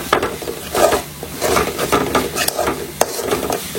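Crab being sautéed with ginger garlic paste in a pan, a steady moderate sizzle broken by repeated stirring scrapes and a few sharp utensil knocks against the cookware.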